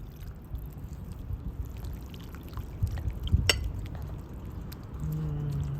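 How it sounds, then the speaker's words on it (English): Water poured into a pan of garden-fresh curried okra, a faint brief splash and clink near the middle, then a quiet sizzle as the liquid settles in the pan. "We're going to add that water in here."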